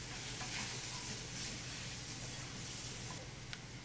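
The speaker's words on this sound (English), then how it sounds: "I'm going to mix this together and then we'll add our almond milk." A thickener for gluten- and dairy-free cream of mushroom soup is stirred in a pan, a soft steady swishing over a faint sizzle, close and continuous with no talk.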